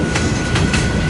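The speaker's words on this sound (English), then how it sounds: "this is a westbound coal drag" A westbound BNSF coal drag rolls past close by in Fremont, Nebraska, loud and steady, with rhythmic clicks of wheels over rail joints.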